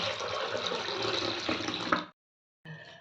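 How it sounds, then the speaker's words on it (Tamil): Water is poured into a lemon drink (panakam) made with lemon juice, cardamom powder and dry ginger powder, giving a steady close splashing rush that stops abruptly, then starts briefly again. "தண்ணி தேவையான அளவு ஊற்றிக்கலாம்"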